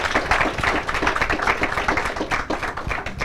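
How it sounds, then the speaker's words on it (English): A modest audience claps for the panel at a Rolex Fastnet Race press conference, individual hand claps standing out in a lively, uneven patter that stays near and fairly loud. "Give them a massive round of applause."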